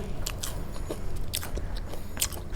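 Crisp bites and crunchy chewing of dried, oven-crisped fruit, close to the mic, with several sharp crunches spaced irregularly over a steady chewing background.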